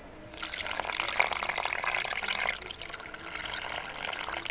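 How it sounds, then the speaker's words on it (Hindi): Water pours steadily into sieved semolina in a home kitchen for suji halwa, a continuous close splashing gush lasting several seconds with no talk. "अब मैं इसके अंदर पानी ऐड कर दूंगी।"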